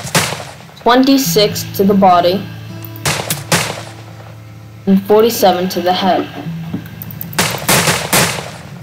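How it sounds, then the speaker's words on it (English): Sharp video game gunshots from a Hammerless revolver in a Wild West game crack out in quick doubled pairs, two bursts separated by a pause, with someone talking over and between the shots. "it sounds like this thing is shooting two shots at a time"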